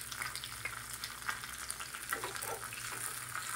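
Mustard seeds, curry leaves and green chillies crackle in about two spoons of hot oil with a pinch of asafoetida, a steady close sizzle and spatter that holds at an even level throughout.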